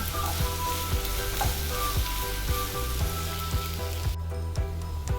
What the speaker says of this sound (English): The oil is nice and hot, and into which I'll put 1 onion which is finely chopped.